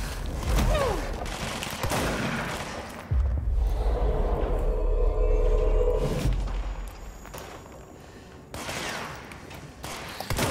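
Enemies firing weapons in the video game Control: a loud, fast fusillade of gunshots and booms, then a rumbling lull before another burst of shooting, all close and dominant.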